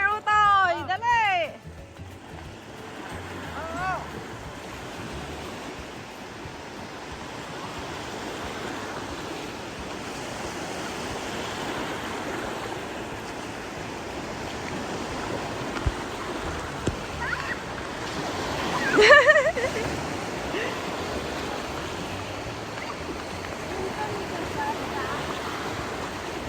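Ocean waves break and wash up on a beach in a steady, roaring surf mixed with wind buffeting the microphone, and a few short voices are heard early and briefly midway.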